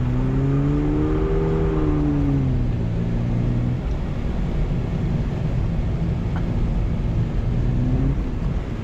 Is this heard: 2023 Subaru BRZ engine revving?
yes